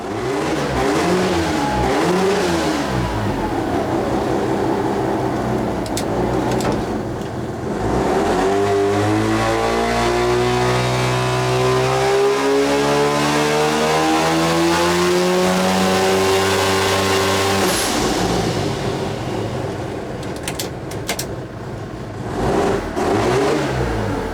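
Mazda RX7 FD rotary engine running on methanol, close and loud, revving up and down repeatedly and bouncing off its rev limiter in rapid stuttering bursts, with a long climbing rev in the middle.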